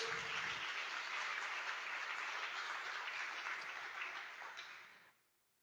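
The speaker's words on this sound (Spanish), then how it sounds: "Dale un gran aplauso al Señor" A church congregation at a Sunday service applauds, a broad, steady roar of many hands clapping that carries on for about five seconds before cutting off abruptly into quiet.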